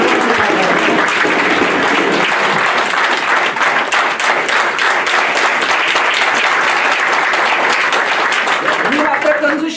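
Loud, sustained applause from an audience at a school farewell gathering, dense clapping hands close by and continuous for the full length, with voices mixed in underneath.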